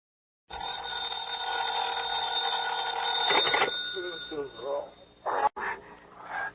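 A telephone rings in an old CBS radio drama, a steady bell tone that carries for about three seconds before it is picked up, and a voice follows.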